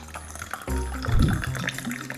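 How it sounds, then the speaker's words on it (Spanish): Hot water is poured into a calabash mate gourd to rinse out leftover yerba, making a close, steady gurgling fill that swells in the middle and continues to the end, with no talk. "lo que hago es llenar el mate con agua caliente"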